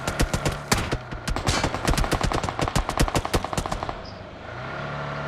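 Rapid automatic gunfire in the PUBG Mobile battle royale game, made up of dense, rhythmic bursts of shots that rattle continuously for about four seconds before cutting off.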